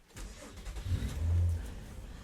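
A Nissan Altima engine with one muffler cut off cranks and fires up in a quick, quiet rising surge, then settles into a low rumble, with no voices.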